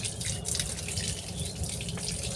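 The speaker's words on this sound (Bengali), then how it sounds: "মাছগুলো ধুয়ে" Fish being washed under running water, a steady close gush and splash of tap water with small drips and sloshes throughout the brief moment, no talking.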